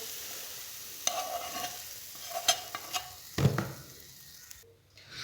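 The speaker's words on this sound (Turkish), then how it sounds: "yeşillikleri ilk önce karıştıracağım" Chopped greens and sautéed onions are stirred together in a pan to make a çiğ börek filling. Close scraping and rustling strokes come in short bursts over a soft sizzle, then fade toward the end.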